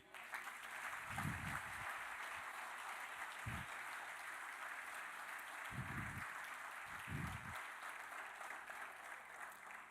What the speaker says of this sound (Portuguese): Eu quero que você glorifique Ele mais uma vez, aplaudindo Ele.